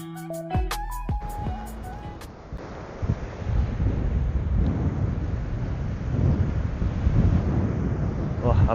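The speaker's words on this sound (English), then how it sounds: "A massive wind has just started coming in off the ocean." Strong ocean wind roars against the microphone over choppy water, a dense, rough rushing that builds and holds steady after some brief tonal sounds at the start.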